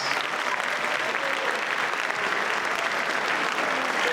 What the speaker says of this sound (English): Can we get a rousing round of applause for the Giants?